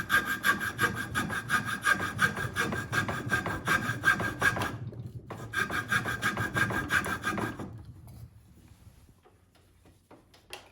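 A hand saw cuts into the carved wooden head of a black duck decoy held in a vise, steady back-and-forth strokes in two close runs with a short pause between, then fading to quiet.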